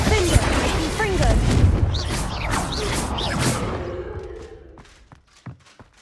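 Spells in the Hogwarts Legacy video game, including Bombarda and Confringo, go off in a chaotic burst of booms, crashes and whooshes over a few seconds, then fade into scattered softer hits and thuds.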